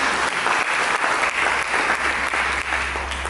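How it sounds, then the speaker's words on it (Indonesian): A church congregation applauds during a Sunday sermon, a loud, continuous wash of clapping that carries through the whole short stretch. "Mari kita berikan tepuk tangan bagi Yesus."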